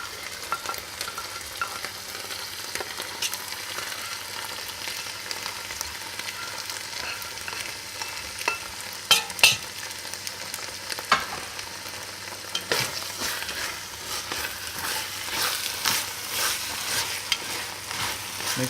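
Onions fry in a pan for Granny's spaghetti, a continuous crackling sizzle broken by repeated spatula scrapes and knocks from stirring, close and moderately loud, with no one talking.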